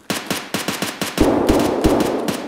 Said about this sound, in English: Is that him shooting at you right now?